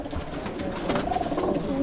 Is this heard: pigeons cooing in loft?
yes